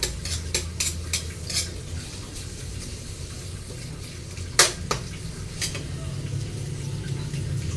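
Onion and garlic frying in a pan while being stirred, a rural home-style cook: a continuous sizzle under sharp clattering knocks of a utensil against the pan, irregular and close.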